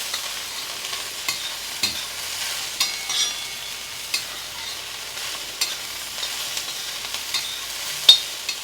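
Ivy gourd (dondakaya) being stirred and fried in oil in a home kitchen, giving a low steady sizzle broken by scattered clicks and scrapes from the stirring, with one sharper knock near the end.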